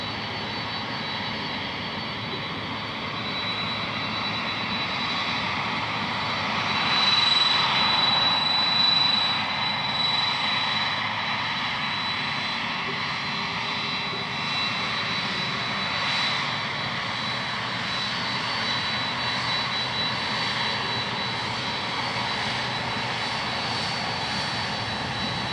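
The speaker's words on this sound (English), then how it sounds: "if you wanted another taxi on Taxiway Mike, we're about to get another one." Steady jet engine drone of an airliner taxiing along a taxiway at Minneapolis–Saint Paul airport, heard from a distance as a continuous whine that swells slightly midway and then holds, with no talk.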